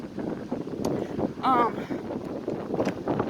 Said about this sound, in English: sorry if you hear there's nothing but the wind